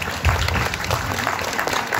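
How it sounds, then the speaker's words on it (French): Audience in a village festival hall (salle des fêtes, Mours-Saint-Eusèbe) applauds after an amateur theatre performance. The clapping is brief, dense and continuous at a steady moderate level. "vous pouvez vous applaudir"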